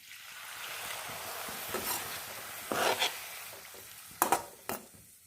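Water is poured into a frying rohu fish and cauliflower curry in a pan, a steady hiss and sizzle with a few louder splashing bursts and stirring scrapes near the end.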